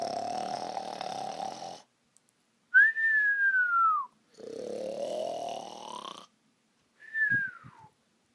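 Loud cartoonish snoring in alternating inhale and exhale cycles, a rough rasping breath followed by a high falling whistle, repeated twice with short silences between.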